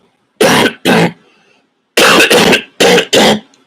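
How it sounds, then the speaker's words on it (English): Six harsh coughs come close up in two bursts, a pair and then four, with short silent gaps between them and no talking. "Sorry, I'm coughing."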